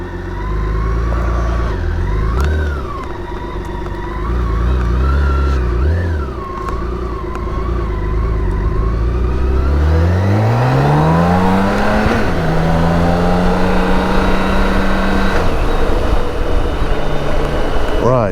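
A BMW K1600 GT motorcycle accelerates hard on the Autobahn. A loud engine note climbs steadily in pitch and then holds high and constant, over continuous wind rush and with a voice at times.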